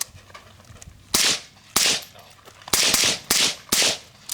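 Suppressed gunshots fired through a can, heard during a seven-suppressor comparison, about five loud sharp reports in a quick irregular series with short decays.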